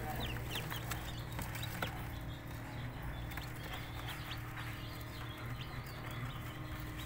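Newly hatched chicks inside a homemade incubator, a steady fan hum under scattered faint cheeps and peeps, with a few louder chirps, heard close but soft throughout.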